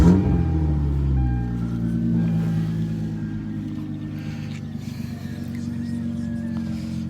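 A Hyundai Genesis Coupe 3.8 with straight pipes cranks and fires up, settling into a loud, deep, rumbling idle that carries on steadily nearby, with faint voices in the background.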